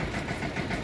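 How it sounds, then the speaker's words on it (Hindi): A small tractor pulling a cart sits on the weighbridge at the Nagal sugar mill, its medium engine chugging steadily and close by with an even idling throb and no talk. "खाली कंटे पे अब ट्रैक्टर बुग्गी आ चुकी है"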